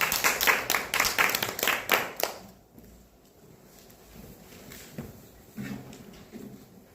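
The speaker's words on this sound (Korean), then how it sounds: "지금까지 강의해주신 이간우 이사님한테 큰 박수" An audience at a Korean lecture claps loudly for the lecturer for about two seconds, then the room falls quiet apart from faint shuffling and murmurs.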